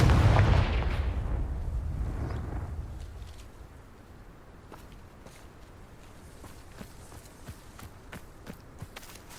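A Confringo blasting spell cast in Hogwarts Legacy: a loud, booming burst in the opening second that rumbles and fades over about three seconds into a quiet backdrop dotted with faint ticks and clicks.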